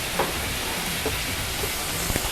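Flounder fillet frying top side down in butter in a hot pan, a loud, steady close-up sizzle and crackle that fills the whole stretch with a few small pops.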